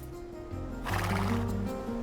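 A scout cavalry horse whinnies in Age of Empires II, a clear, fairly close neigh rising over steady game background tones and settling back into them.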